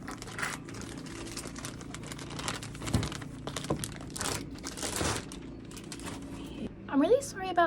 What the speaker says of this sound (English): So the box within a box within a box is also covered in plastic, so let's get that off